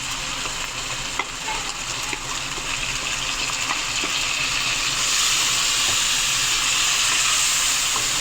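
A paste of garlic, ginger and green chilli sizzles and fries steadily in a pan, a continuous crackling hiss with occasional pops that grows a little louder and brighter partway through, with no voices.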